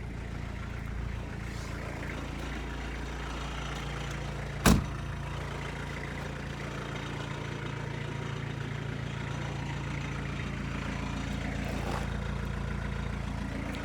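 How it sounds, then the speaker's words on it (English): 1985 Peugeot 505 turbodiesel idling through a custom exhaust that is broken and rattling, a steady low drone close by with one sharp brief knock partway through. "It's the exhaust I was telling you about."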